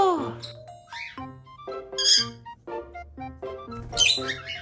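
A hand-tame cockatiel lets out repeated sharp, shrill squawks and chirps in quick, uneven bursts, close and loud while it attacks its owner, with brief quieter gaps between the cries.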